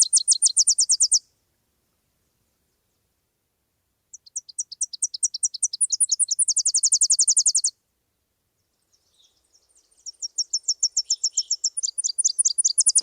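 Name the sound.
Tennessee Warbler song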